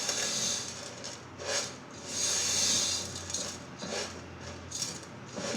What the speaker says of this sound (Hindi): हल्के हल्के चम्मच चलाते जाएं।